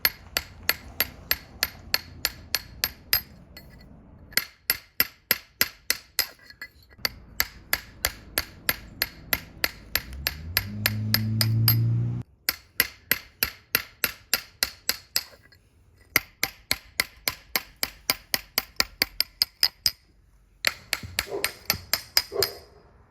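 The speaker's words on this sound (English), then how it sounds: "Now I'm using a carbide tip steel chisel" A carbide-tipped steel chisel struck by a hammer into granite: sharp, ringing metallic blows in rapid, regular runs broken by short pauses, close and loud, with a brief grinding scrape midway.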